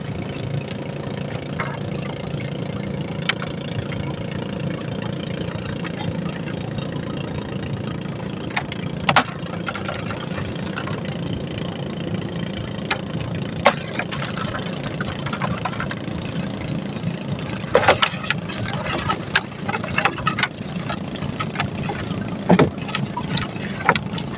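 A steady fishing boat engine drones throughout at an even idle while heading into the wind, with occasional knocks and splashes over the constant mid-pitched hum.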